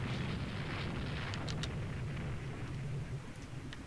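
Naval shell hits landing on warships in the Rule the Waves 2 video game, a dense continuous rumbling barrage of booms with a few sharper impacts near the end.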